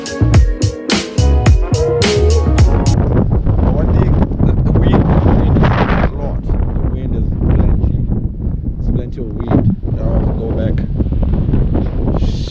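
Strong wind buffets a GoPro microphone outdoors on the Wild Coast at Coffee Bay, a loud continuous rumbling roar with gusty surges throughout.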